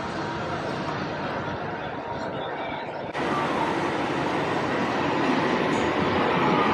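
A moving train produces a constant dense rumble and rattle from inside the carriage, growing louder after a sudden shift partway through, with faint voices beneath.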